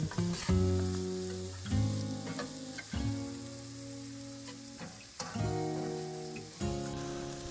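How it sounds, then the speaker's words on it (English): Onion and potatoes fry in butter in a skillet over medium heat, a soft sizzle broken by repeated scraping stirs in uneven bursts, close and alone. "add your onion and potatoes to the pan. Cook potatoes over medium heat until softened."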